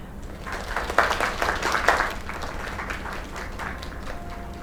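Moderate applause from a small group in a video game, scattered clapping rising and then tapering off, with faint room noise behind it.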